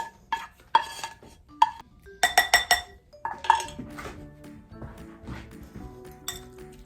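Softened vegetables scraped into a bowl of meatloaf mix, with close metallic clinks and taps of a utensil against dishes, followed by softer mixing and stirring sounds.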